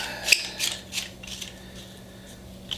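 An extendable overhead camera mount being tightened, a series of small close clicks and ratcheting scrapes, quiet and irregular over a faint hum.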